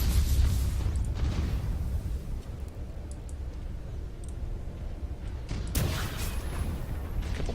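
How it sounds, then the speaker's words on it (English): A torpedo volley fired during a space battle in the video game Battlefleet Gothic Armada produces a continuous low, heavy rumble with muffled booms and one sharper burst near the end, and no voices. "Couple more torpedoes out,"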